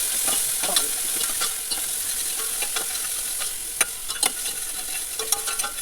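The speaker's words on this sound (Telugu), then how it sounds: "కొద్దిసేపు పచ్చివాసన పోయేంత వరకు బాగా వేయించాలి" Broad beans (avarekai) fry in hot oil in a pan as a spoon stirs them, a steady loud sizzle with repeated scraping strokes and occasional sharper clinks throughout, close by and with no talk.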